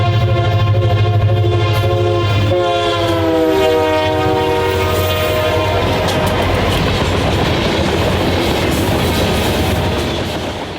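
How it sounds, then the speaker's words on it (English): Norfolk Southern freight train 10E, led by several armor yellow locomotives, rolls past close by with a loud rumbling engine drone, a long horn blast early on, then steady wheel and car rattle building toward the end. "The first train was 10E, which featured an abundance of armor yellow locomotives for power."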